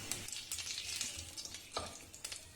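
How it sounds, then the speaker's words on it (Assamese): Whole spices, including panch phoron, bay leaf, dried red chilli, clove, cardamom and cinnamon, fry in mustard oil in a wok. The close, continuous sizzle crackles with a few sharper spikes of spattering and stirring. "অকণমান ভাজি লৈছোঁ"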